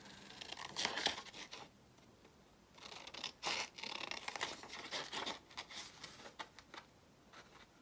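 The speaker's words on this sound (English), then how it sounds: "We'll just trim around it." Scissors snip around a paper tag for a layered journal decoration, giving quiet, close crisp cuts and rustling paper in short irregular bursts with pauses, no talk.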